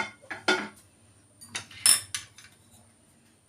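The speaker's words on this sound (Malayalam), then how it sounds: "അപ്പോൾ നമുക്ക് ചട്ടി അടുപ്പത്ത് വയ്ക്കാം" A frying pan for an omelette is set on a stove, giving several sharp metallic clanks and clatters close by, with short quiet gaps between them and no talking.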